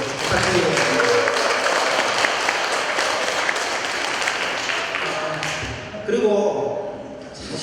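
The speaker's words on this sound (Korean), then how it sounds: "박수 나면 크게 부탁드리겠습니다" A hall audience at a Korean talk show claps in a dense, steady round of applause that tapers near the end, followed by a brief renewed burst.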